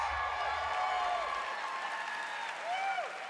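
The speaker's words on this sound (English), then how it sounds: "Everyone's cheering" Audience at Bethesda's E3 2019 press conference cheering and clapping, a broad steady wash of applause from a large crowd filling the room, with a presenter's voice faintly over it.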